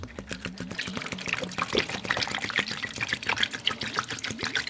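Vinegar poured over a rusty axe head in a container, a steady trickling, bubbling stream with splashy irregular spatters, fairly close and moderately quiet.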